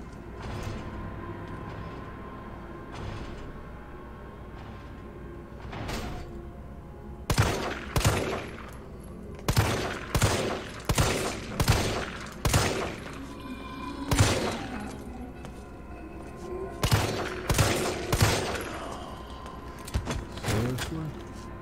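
Heavy shotgun blasts in the Resident Evil 3 Raccoon City demo boom out singly and in quick pairs, spaced irregularly, with faint game ambience and mechanical clatter between shots.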